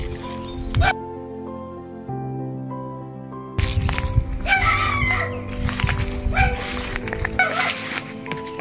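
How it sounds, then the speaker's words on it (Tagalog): A dog outside an abandoned concrete ruin barks and yips in short bursts, nearby and fairly loud, over a steady background hum. "Meron siyang aso dito"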